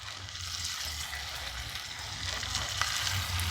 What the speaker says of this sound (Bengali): যে কটা বানিয়েছি এগুলো ভেজে নেব